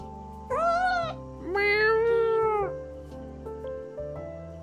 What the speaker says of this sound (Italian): Allora, questo è un gatto.